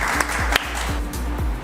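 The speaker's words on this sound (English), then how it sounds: "Please give her a big round of applause." An audience claps in steady applause at a school spelling bee competition, welcoming the pronouncer, a dense continuous patter of many hands close by, filling the whole moment.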